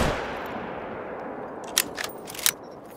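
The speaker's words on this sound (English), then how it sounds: "I'ma fire a shot into the air and we'll see what happens" A single rifle shot fired into the air in the hunting game theHunter: Call of the Wild, a loud crack at the start trailing into a long, fading echo, followed by a few light metallic clicks.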